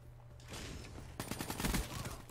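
Rapid automatic gunfire in the video game Black Ops 3, starting after a brief swelling rumble and breaking into a dense, loud burst of repeated shots that lasts about a second before fading.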